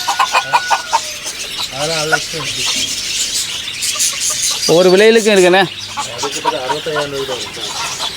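Several chickens of assorted breeds at a Batticaloa market cluck in bursts of short, rising calls, close and fairly loud, over a steady crowd murmur and lively talk between people.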